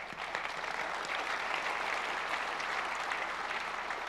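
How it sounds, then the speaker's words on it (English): A conference audience at a developer keynote applauds steadily, a dense, even wash of many hands clapping that holds for about four seconds with no talking. "clap for that"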